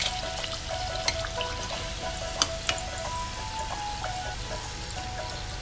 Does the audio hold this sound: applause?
no